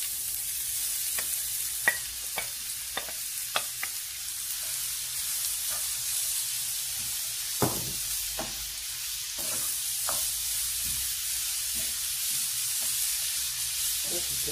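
Onions fry in hot oil with a constant close sizzle, broken by repeated sharp clicks and scrapes of a utensil stirring in the pan.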